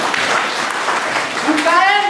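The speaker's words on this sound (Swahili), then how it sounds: "Tupigie Yesu makofi" A church congregation claps for Jesus in a dense, continuous wash of applause, and a voice rises near the end.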